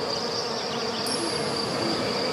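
A steady, loud buzzing drone used for meditation holds continuously throughout, dense and unbroken, with a thin high tone sustained above it and no voices.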